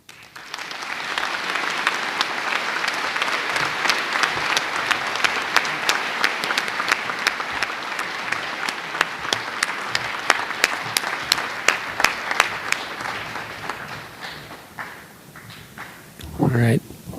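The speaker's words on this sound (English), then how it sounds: "would you join me in one more round of applause for the Guida family, please?" A Veterans Day audience applauds in a long, steady round of clapping that lasts about fifteen seconds and then tapers off, with a brief louder sound at the very end.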